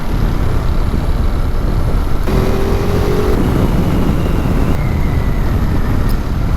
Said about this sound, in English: Quite a bit of wind noise from the screen